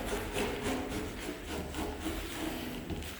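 A spline roller presses rubber spline into the groove of a DIY flyscreen frame over the mesh, giving a steady, close, continuous rubbing and rolling sound with no voices.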